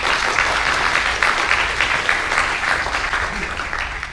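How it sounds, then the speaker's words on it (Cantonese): Audience applause fills a university computer society inauguration ceremony, a dense, steady clapping from a crowd indoors that holds evenly for several seconds. "咁我會俾掌聲佢哋先"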